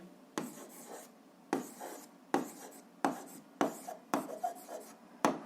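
Pen writing on paper during a seventh-grade physics exercise: a series of scratchy strokes with sharp onsets, roughly once a second, close and fairly quiet, with no talking.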